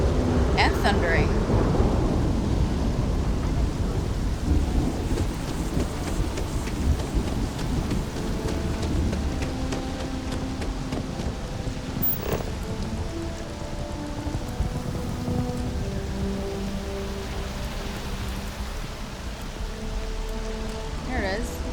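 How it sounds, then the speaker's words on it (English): Steady rain hisses throughout in the video game Starfield, with low rumbles of thunder rolling beneath it and quiet musical tones drifting in later. "it's raining and thundering"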